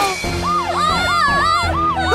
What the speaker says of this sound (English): Isn't that a siren?